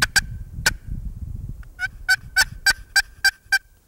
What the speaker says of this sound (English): just kind of get soft with your box call.